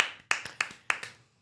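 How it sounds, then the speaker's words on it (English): A few people clapping on a casual medical podcast, four or five distinct sharp claps spaced evenly about a third of a second apart, close and then fading out. "that deserves an applause."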